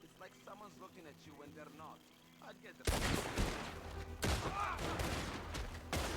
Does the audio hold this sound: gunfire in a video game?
yes